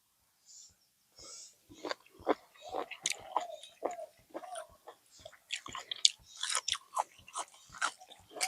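Crunchy chewing of boiled shellfish dipped in a galangal jaew sauce, close-up crisp bites and wet mastication in an irregular rhythm with short pauses, no talking.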